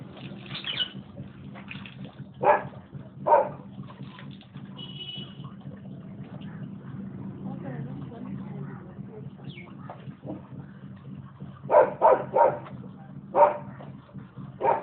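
Two dogs bark in short bursts, a couple near the start and a quicker cluster later, standing out over a low steady background hum, with no speech.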